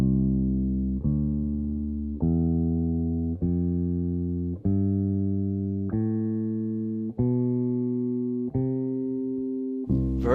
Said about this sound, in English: So you hear that brightness of the major scale.